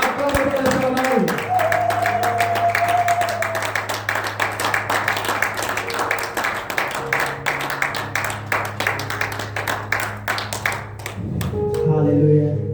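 Congregation at a church thanksgiving service applauding and cheering the apostle, steady loud clapping from a crowd layered over sustained music and voices, swelling again at the end.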